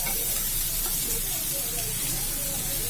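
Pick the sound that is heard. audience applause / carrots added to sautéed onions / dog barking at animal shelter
carrots added to sautéed onions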